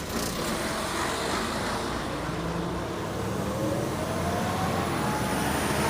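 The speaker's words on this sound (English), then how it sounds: "this is a noisy bus" A noisy city bus in San Francisco traffic gives a steady, loud engine rumble and road roar that stays constant throughout, with no talking.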